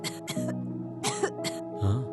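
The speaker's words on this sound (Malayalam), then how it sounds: "യൂഷ്വൽ ചുമയും ജലദോഷവും." Someone with the usual cough and cold coughs in several rough, separate bursts with throat-clearing sounds, close and clear against a quiet background.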